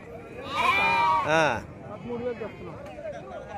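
Sheep bleat at a busy livestock market in Gudur, with a loud, wavering bleat in the first half amid a steady crowd murmur and people talking nearby.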